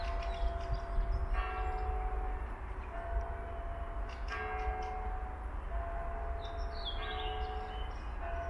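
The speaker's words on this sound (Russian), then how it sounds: "там храм, видите? Надеюсь, вы слышите колокола." Bells of a nearby church ring at night beside a cemetery, repeated clangs carrying over a constant low rumble of outdoor background noise.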